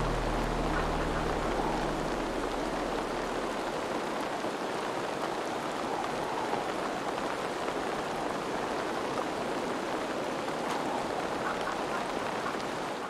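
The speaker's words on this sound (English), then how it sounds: "The rain is a bit of a problem, but hell, it's heavier over here than over there." Steady rainfall in the Assassin's Creed Valhalla video game, heard from a hilltop, a constant dense hiss of raindrops running unbroken and fairly loud throughout.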